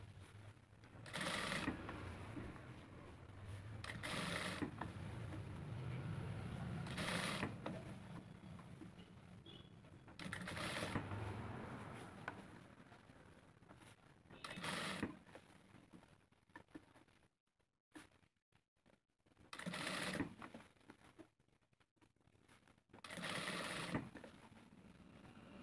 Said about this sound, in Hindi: फिर हम यहाँ पर सिलाई लगाएंगे